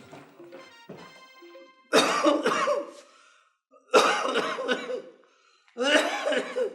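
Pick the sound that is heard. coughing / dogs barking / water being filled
coughing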